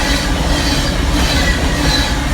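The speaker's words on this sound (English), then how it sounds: "These empty trains, though, will fly, as BNSF 6119 leads this westbound through Aurora," Fast, loud rumble of BNSF 6119 leading an empty westbound coal train through Aurora, Nebraska, with steady roaring wheels and faint rail squeal as the cars rush past close by.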